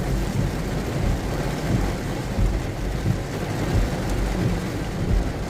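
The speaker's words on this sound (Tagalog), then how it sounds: "lakas ng ulan." Heavy rain pours down with low rumbles of thunder in a dense, continuous wash, with deep booming swells throughout and no clear voices.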